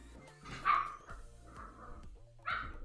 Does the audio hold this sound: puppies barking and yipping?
yes